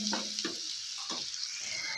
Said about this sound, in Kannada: ಈರುಳ್ಳಿ ಸ್ವಲ್ಪ ಮೆತ್ತಗಾಗೋವರೆಗೆ ಹುರ್ಕೊಳ್ಳೋಣ.